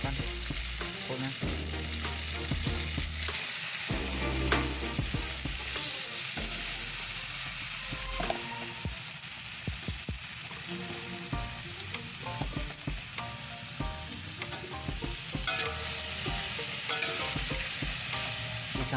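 Shredded cabbage stir-frying in hot oil with chili and shallots, a loud steady sizzle with repeated scraping and tossing of the spatula against the pan throughout, no voices.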